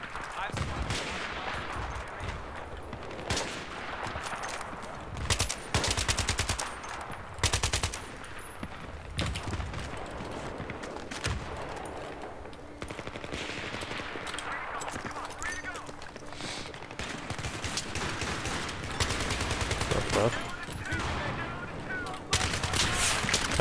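Scar-L rifle fire in Battlefield 3 pops in repeated bursts and single shots, mixed with other distant gunfire and explosions, while someone talks over the action throughout.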